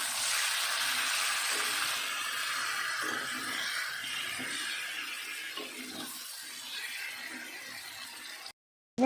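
Cumin and coriander powder sizzle steadily in a hot frying pan as a Bengali potato curry (aloor dum) is cooked, a soft continuous hiss with small crackles that cuts off abruptly at the end.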